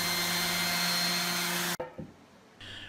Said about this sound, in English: we're just sanding off that little bit of putty from those chip outs